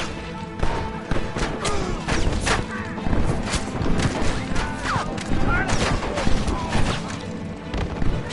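Gunfire in the video game Red Dead Redemption, a dense, continuous fusillade of loud shots and booms with battle noise and shouted voices mixed in throughout.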